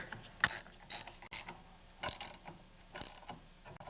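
A ratchet wrench tightens a half-inch bolt on a snowblower auger gear case, giving a series of close, dry clicking strokes in short bursts with brief pauses between.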